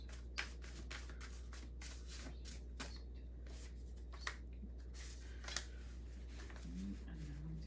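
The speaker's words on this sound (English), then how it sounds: "And then we'll do a shuffle here." Quiet shuffling of a deck of cards, with soft repeated riffling and a few sharper flicks and taps, close and alone with no talk.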